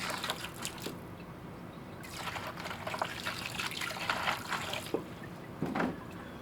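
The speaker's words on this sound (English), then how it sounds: "Give it another rinse." Running water rinses slimy used filters and rags during gold recovery, a continuous close splashing and trickling with some uneven gushes, without talk.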